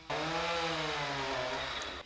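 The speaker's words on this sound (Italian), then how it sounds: "Quello che sentite in sottofondo è il rumore di una motosega" A chainsaw clearing fallen trees and branches at the Roman forum of Veleia drones steadily at a moderate distance, its buzzing engine note wavering slightly in pitch before cutting off.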